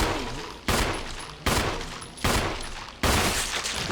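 Gunshots in the Resident Evil video game: four loud, sharp reports, each with a short decaying tail, fired at an even pace about every three-quarters of a second, with no voices over them.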